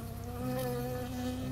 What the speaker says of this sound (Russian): Это гребаная пчела.